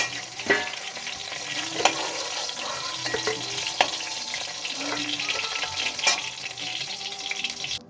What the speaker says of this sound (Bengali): এক দিকটা ভাজা হয়েছে, আরেক দিকটা ভালো করে ভেজে নেব